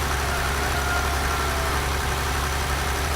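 A small tractor idles in a farming video game, its engine a steady, continuous low drone held close throughout, with no talk over it.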